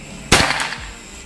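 Single sharp crack of a PCP air rifle (Escobar series) fired at a range, a close, loud snap that decays quickly, with no talk.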